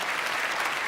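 A brief burst of steady, dense clapping from a piano competition audience applauding the candidates, close and continuous with no pauses.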